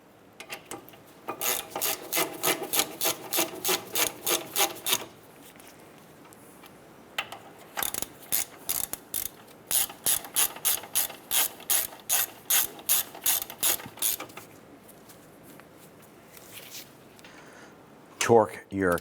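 A ratchet snugs down the brake caliper bracket bolts on a 2008-2012 Honda Accord, giving several bursts of rapid, crisp clicking separated by short pauses.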